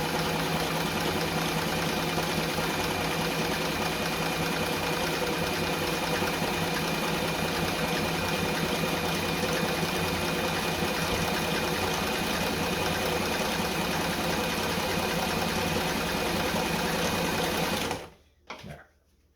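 A Singer 237 Fashionmate sewing machine stitches a wide, tight zigzag satin stitch, humming and clattering steadily and close for about eighteen seconds before stopping abruptly.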